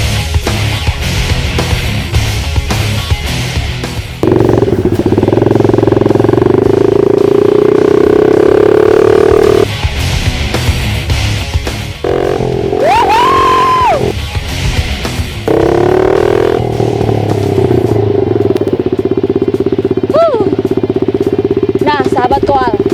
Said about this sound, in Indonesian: saatnya kita santai nih dengan menggunakan motor trail ini.